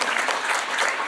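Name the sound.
audience applause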